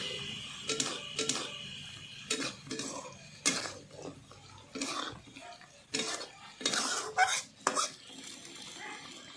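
A sweet dish is pressed and mixed in a pan, giving repeated scraping and clanking strokes of a utensil against the metal, irregular and close, with a faint sizzle underneath.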